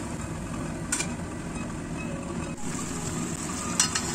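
Fish sambal with golden pomfret being stirred in a pan as it cooks down, a continuous soft sizzle with faint scraping and a couple of light clinks from the utensil.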